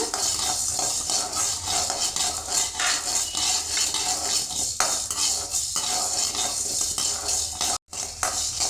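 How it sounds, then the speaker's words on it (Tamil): Asafoetida dry-roasting in a pan for thuthuvalai rasam powder, with steady metallic scraping and stirring and a soft sizzle throughout, close and continuous. "பெருங்காயத்தை நல்லா வறுத்து எடுத்துக்கலாங்க"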